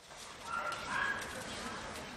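Dogs at an animal shelter in Tbilisi bark and yip in a brief noisy burst, several animals close by, with a voice talking over them.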